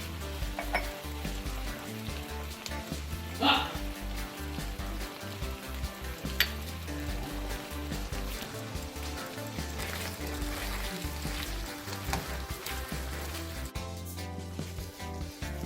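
Succotash mixed with canned salsa sizzles and simmers quietly in a pan, with a steady crackling bubble throughout and a few faint clinks of utensils.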